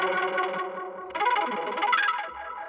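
Expressive Osmose synthesizer playing a lush, layered patch with chorus, echo and distortion: a sustained chord swells, then a brighter second phrase enters and fades, loud and alone.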